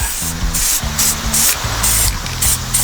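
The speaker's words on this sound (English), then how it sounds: "it's a sprayable glue, so it's less messy" Short bursts of spray adhesive hiss in quick succession onto a Dodge Ram 1500 transmission pan gasket, each a second or less, close by with a faint low mechanical hum underneath.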